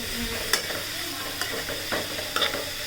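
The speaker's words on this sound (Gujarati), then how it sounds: "સારી રીતે આ રીતે હલાવી નાખશું." Cabbage, carrot and capsicum sizzle steadily in a hot pan while a spoon stirs them, with a few sharp scrapes and clinks against the pan's surface at intervals.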